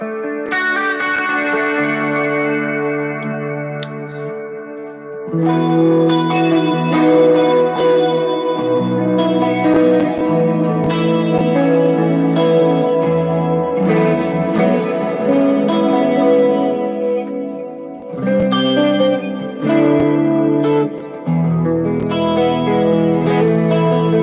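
Electric guitar played through a Cool Cat effects pedal adding reverb and delay, sustained chords and notes ringing out with long echoing tails.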